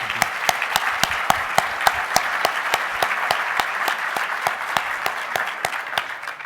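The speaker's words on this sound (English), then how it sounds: "Let's give Al Moro another round of applause" Audience applause at the State of the Port 2014 event: a steady round of clapping, with sharp individual claps standing out at a regular beat over the dense crowd sound, moderately loud and without voices.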